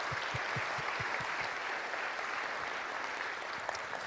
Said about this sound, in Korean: 우리 박수로 하나님 앞에 영광 올려드렸으면 좋겠습니다.